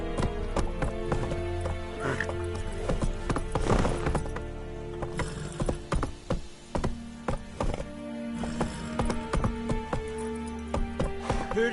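The horse Roach gallops in The Witcher 3, hooves clip-clopping in quick rhythmic beats, loud and close, with a brief whinny and some harness rattle.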